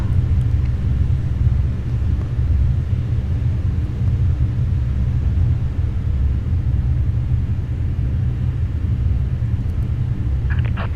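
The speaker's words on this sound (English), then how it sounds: "Alright, I'm gonna start my engines now." Steady low jet engine rumble from an Airbus A321 airliner starting its engines at the gate, broad and droning, holding at a constant level throughout with no voices.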